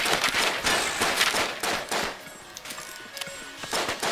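Rapid gunfire from the twin-stick shooter game Enter the Gungeon, a dense run of sharp bursts and repeated shots that is loud in the first half, then thins into scattered pops with game effects beneath.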